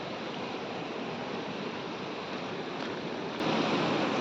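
Steady, loud rush of falling water, a continuous broadband roar with no breaks, growing slightly louder near the end.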